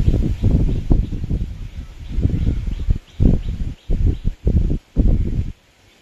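Strong gusts buffet the microphone in bursts during outdoor village cooking, rumbling loudly then dropping away, with leaves rustling between the blasts.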